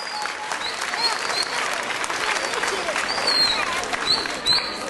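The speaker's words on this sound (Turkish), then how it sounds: "Öyle bir alkışlayalım ki bu oyunları oynamak isteyenler duysunlar." An audience gives sustained, dense applause at the opening ceremony of a cultural centre and cemevi in Bursa, a continuous wash of clapping with faint voices mixed in.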